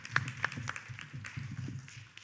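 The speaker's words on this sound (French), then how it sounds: "je vous invite à l'applaudir pour le féliciter" A council meeting chamber applauds a newly elected deputy mayor. A small group claps in scattered, uneven bursts, with a few sharp close claps standing out over a low room rumble.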